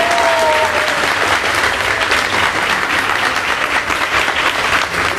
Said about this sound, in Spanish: Todos aplauden al mismo tiempo.